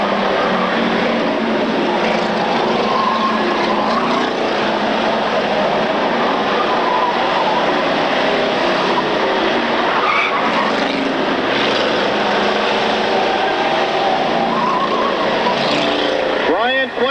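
Several race cars run on an oval track, one rejoining the field after a fault was fixed, their engines a loud continuous roar heard steadily throughout under a commentator's voice.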